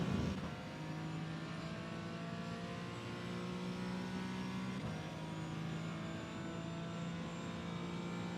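Porsche Cayman 718 GT4 engine in iRacing at Road America, pulling hard out of a corner with a steady, loud, continuous tone that rises through the revs and carries on unbroken throughout.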